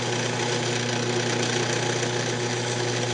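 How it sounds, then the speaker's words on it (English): A yew box tenon is sanded with 600 grit paper on a spinning wood lathe, heard as a steady motor drone with a faint, even rasp layered over it. "I'm going to take the 600 and use that to bring the tenon down just a little bit"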